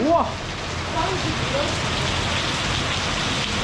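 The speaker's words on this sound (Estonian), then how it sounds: "See on küll suurem vihm kui eelmine kord oli." Heavy rain pours steadily in Tartu during a downpour that floods the area, a dense continuous hiss throughout, with a few brief voice fragments near the start.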